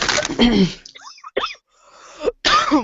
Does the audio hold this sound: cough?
yes